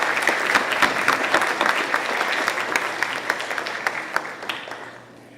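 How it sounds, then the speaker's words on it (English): Parents clap at a middle school top-twelve banquet, a lively burst of applause with sharp individual claps that gradually thins and fades out toward the end. "All the parents, give a round of applause, all parents."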